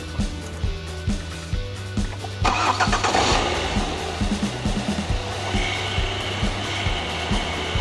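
A car engine cranks and catches at about two and a half seconds, then settles into a steady, close idle after a ticking starter-like rattle.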